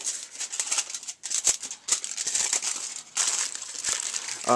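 Aluminium foil crinkles and crumples steadily as it is stretched over a hookah bowl and readied for packing Starbuzz tobacco in a Vortex bowl, with several sharper rustles close up and no speech.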